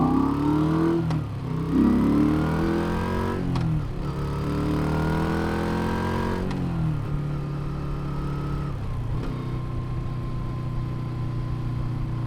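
Moto Guzzi V7 850 motorcycle on the move, a close, continuous engine hum that climbs in pitch through each gear and drops at several shifts, with steady wind rush and no talking.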